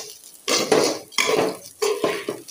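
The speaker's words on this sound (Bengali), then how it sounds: "এই যে পোলাও রান্না করবো, এখানে চালটা সুন্দর করে ভেজে নিচ্ছি।" Chinigura rice for pulao being fried and stirred in a pot, heard as three bursts of spoon scraping and grains rustling against the metal, close up with no talking.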